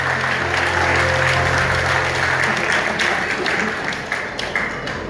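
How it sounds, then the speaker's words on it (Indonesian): Church congregation applauding together, a sustained dense wash of clapping that stays strong for several seconds before thinning slightly toward the end, with faint talk beneath it. "Tepuk tangan untuk Tuhan."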